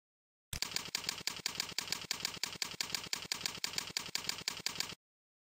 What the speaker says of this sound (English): Type some text.